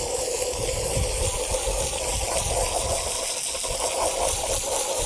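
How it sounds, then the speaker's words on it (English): Pressure washer spray rinsing a rubber floor mat from a 2021 Volkswagen, a strong continuous hissing gush of water that stays loud and steady from start to finish. "But it does give you a pretty strong spray there."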